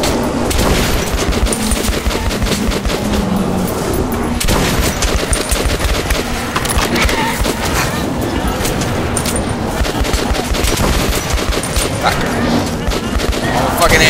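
Loud, dense gunfire and booming blasts from the Metro Last Light video game, including shotgun fire against giant rats, fill the whole stretch continuously, with a voice speaking under the din.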